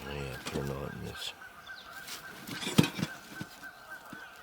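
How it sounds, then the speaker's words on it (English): Geese honk near a tent campsite at Spruce Woods Provincial Park: a burst of loud, nasal, repeated honks opens, then scattered quieter calls and one sharp squawk follow in the cold outdoor air. "Those fucking geese"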